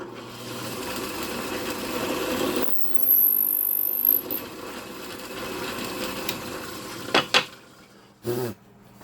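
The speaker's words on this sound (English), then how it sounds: "Okay, now I'm over at my drill press. So now I'm just going to drill a hole in this." Drill press boring a hole in wood for a scrollsaw-made wooden mug, a steady motor hum and grinding drone that drops off, followed by a few sharp clicks and a short thump.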